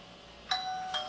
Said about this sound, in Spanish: Tres veces el timbre.